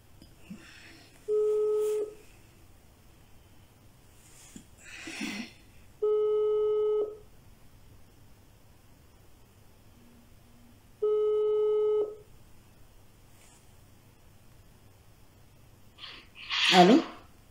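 Telephone busy signal: three separate steady tone bursts spaced a few seconds apart, heard through a phone line, with faint voices and breath noises between them.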